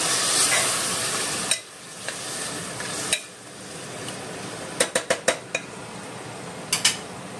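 A spoon stirs mutton masala in a metal pan over a faint sizzle, with a few scattered clinks and then a quick cluster of sharp metallic taps near the end, close and with no talking.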